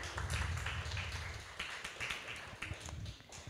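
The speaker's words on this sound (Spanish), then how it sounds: "Julie, por favor, un aplauso para Julie." Audience applause at a church meeting, a small crowd clapping steadily and fairly quietly, the claps tapering slightly toward the end.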